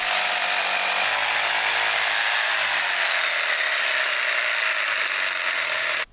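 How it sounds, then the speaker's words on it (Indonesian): A jigsaw cuts Majot wood from Kalimantan in a loud, continuous, close buzzing rasp that holds steady for about six seconds and then stops abruptly. "lalu kita potong menggunakan jigsaw supaya hasilnya lebih rapi"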